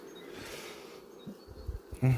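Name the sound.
honey bees buzzing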